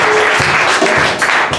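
A church congregation claps during a sermon, a short burst of dense applause that stays steady, then thins slightly toward the end.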